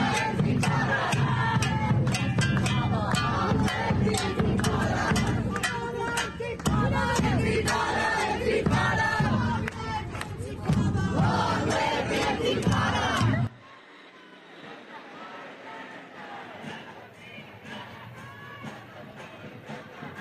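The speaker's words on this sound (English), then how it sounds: "The crowd has been growing" A large protest crowd shouts and chants loudly and continuously for about thirteen seconds, then the sound cuts to a quieter, distant murmur of the gathering.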